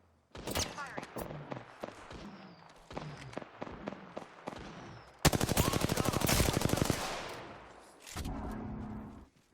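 Rapid automatic gunfire from the video game Apex Legends, with short bursts early on and then a long, loud sustained volley, over faint game sounds and a voice speaking.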